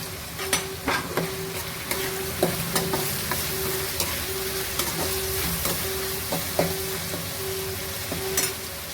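Soya chunks (meal maker) fry in ghee with ginger-garlic paste, giving a continuous close sizzle broken by repeated scraping and clacking as the pan is stirred.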